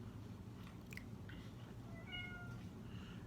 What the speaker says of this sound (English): And my cat's whining.